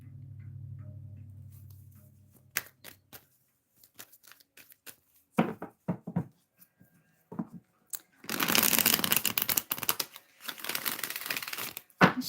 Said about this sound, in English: Gonna get some shuffles in